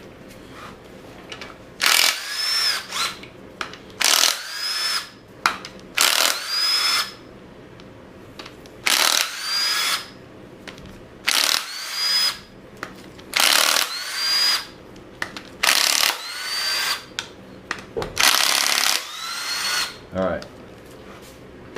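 Power tool spinning out 10 mm timing cover bolts on an LS1 engine swapped into a 240sx, a series of loud whirring bursts of a second or two each with short pauses, someone speaking briefly at the start.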